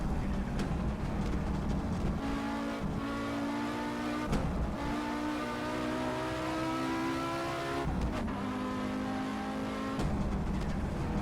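A rally-bred Audi Quattro S1 in the Assetto Corsa racing game drones and revs continuously, its engine note rising and falling through gear changes with brief gaps at shifts, loud and steady throughout.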